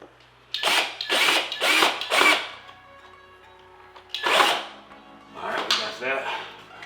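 Power drill driving screws while an acoustic panel is assembled: three quick close bursts in a row, a pause with low hum, then two more bursts, the last ones broken into short pulses.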